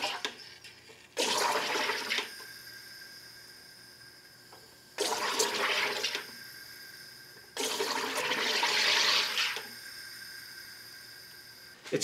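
A SodaStream soda maker injects carbonation into juice: three loud bursts of pressurized hissing, each lasting a couple of seconds and separated by pauses with a faint steady hum between them.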